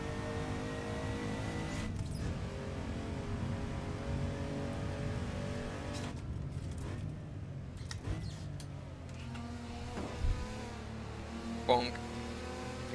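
Race cars in Assetto Corsa drive in close racing, engines droning and revving continuously with shifting pitch, several cars near together, a couple of brief knocks late on.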